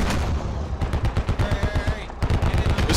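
Steady, rapid machine gun fire in the Squad military shooter, loud and close, with rhythmic bursts continuing throughout and a brief lull near the two-second mark.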